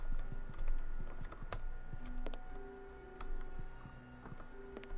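Computer keyboard keys clack in quick, irregular bursts of sharp clicks during play of Testament of Sherlock Holmes, with scattered background game tones and no talking.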